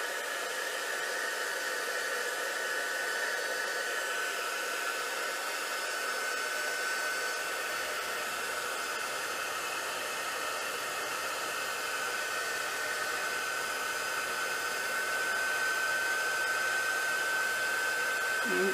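A heat embossing tool melts embossing glaze for a mixed media stamping project, blowing a loud, steady, hair-dryer-like whoosh with a faint whine, running continuously without any talking.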